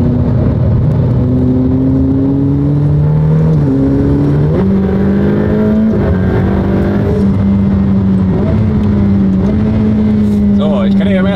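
A Ferrari sports car accelerates on a race track, its engine a loud, close, steady drone rising through several gear changes, with someone talking over it.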